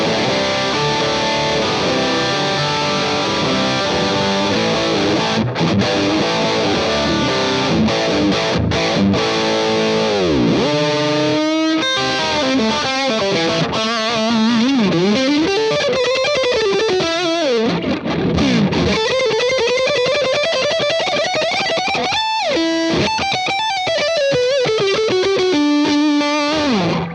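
Electric guitar played through a Blackstar HT Stage 100 head on the OD2 overdrive channel, British voice with the voice switch off: loud distorted chords and riffs, then sliding and bending lead lines that run without a break.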